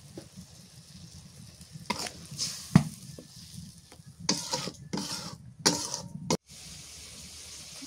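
Tomatoes go into hot, sizzling spice masala in a pan for a fish curry, a steady sizzle broken by repeated scraping stirs and sharp clinks of a spoon against the metal, close and fairly quiet.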